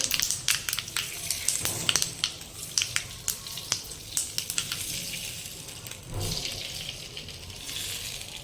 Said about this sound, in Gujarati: તરત જ આ વઘાર આપણે ખાંડવી પર રેડી દેવાનો છે